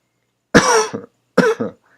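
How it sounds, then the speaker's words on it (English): Two separate dry coughs from a sick person, each a sharp, harsh burst with a short tail, spaced about a second apart and close up against silence. "I've been sick for the past few days and have a really dry cough"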